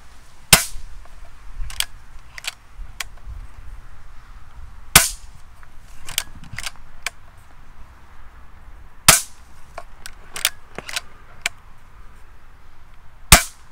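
A Weihrauch HW 100 bullpup air rifle fired repeatedly, giving sharp, loud cracks at irregular intervals. Fainter clicks and clacks of the lever being cycled come between shots, over a quiet background with no speech.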